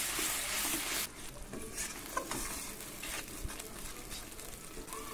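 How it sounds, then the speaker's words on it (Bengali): Masala spices with turmeric, salt and water are stir-fried in a pan for a Bengali foli fish curry, with a loud sizzle at first, then a softer sizzle and occasional stirring scrapes close by. "এবার মশলা আমি খুব ভালো করে কষিয়ে নেব।"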